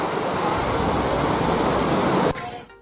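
Heavy rain in Tamil Nadu pours down in a dense, steady hiss that fills the whole stretch, then drops off abruptly near the end.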